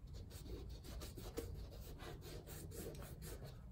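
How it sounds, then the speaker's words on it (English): Gloved hands rubbing Huberd's grease into Timberland leather hiking boots, a soft steady scuffing and rasping close by, quiet and continuous with faint rhythmic strokes. "So we're going to apply the grease with our hands."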